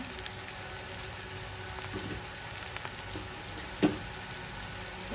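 Garlic sautés in hot oil in a pan with cumin seeds for an aloo paratha filling, giving a continuous close sizzle and crackle with one brief clink near the end.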